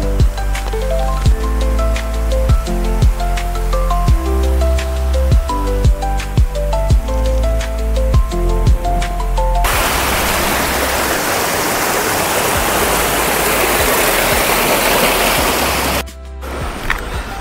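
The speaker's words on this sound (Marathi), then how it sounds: "माझ्या मागे जो धबधबा दिसतोय आपल्याला तिकडं जायचं आहे" Waterfall and stream water near Surgana in Nashik, heard first under loud music, then as steady broadband rushing water alone, close and loud, ending with a brief dropout.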